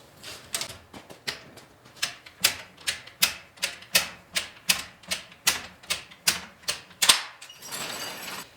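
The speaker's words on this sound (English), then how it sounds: "And our torque wrench set to 75 foot-pounds." A torque wrench clicks repeatedly while tightening the wheel lug nuts on a 1948 Chevrolet during a whitewall tire job, about a dozen sharp, evenly spaced ratcheting clicks close up, then a brief rustle.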